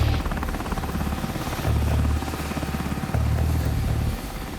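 Helicopters flying toward a landing zone on a hostage-rescue mission produce a loud, steady rotor thrum with a pulsing low beat. The sound stays continuous and close throughout.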